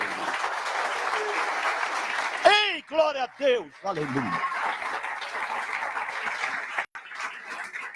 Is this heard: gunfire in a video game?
no